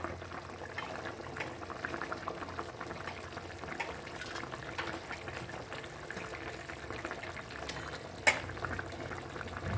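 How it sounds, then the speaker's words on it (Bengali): Fish curry broth with potato and cauliflower at a steady rolling boil, a dense continuous bubbling heard up close, with one brief clink near the end. "ঝোলটা খুব ভালোভাবে ফুটে গেছে"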